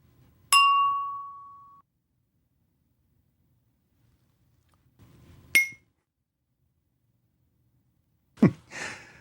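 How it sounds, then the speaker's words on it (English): A wine glass and a teacup made to vibrate: three separate ringing tones with quiet gaps between them, a clear, long-sustained glassy ring, then a shorter bright ding, then a duller, brief clink. "Here is a wine glass and a teacup. Let's make each vibrate."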